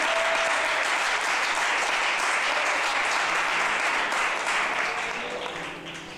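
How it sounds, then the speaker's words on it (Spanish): A church congregation claps in loud, continuous applause during a sermon, a full roomful of hands that tapers off slightly toward the end. "Den un aplauso a la presencia de Dios."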